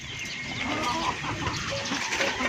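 Backyard chickens clucking close by while ducks and chickens feed on banana leaves, a steady busy chatter of fowl with no talking.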